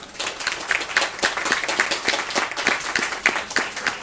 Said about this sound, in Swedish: En applåd till er.